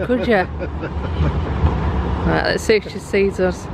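A tram in Manchester rumbles past close by, a low steady rolling drone with faint clatter, while people chat over it.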